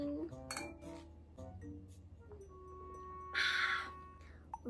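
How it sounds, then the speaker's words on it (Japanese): Glasses clink together during a Halloween party toast, with several light taps and one louder bright ring near the end over a low room background. "それじゃあ乾杯しよっか。"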